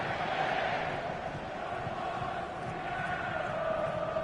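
Stadium crowd in FIFA 23 football gameplay, a steady distant roar of massed voices, moderately loud and sustained without a lull.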